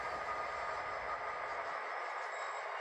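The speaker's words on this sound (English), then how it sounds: "Today, we're going to follow train L83 as it switches." Train L83 on the Seaboard Central railroad rumbles past in a steady, loud mechanical roar with a sustained metallic hum, continuous and unbroken throughout.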